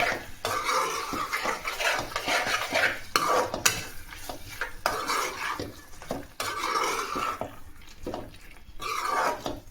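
A spoon scrapes and clanks around a pan, mixing gongura prawn curry with coriander, cumin and garam masala: repeated rhythmic stirring strokes over a soft sizzle, close up, with no speech.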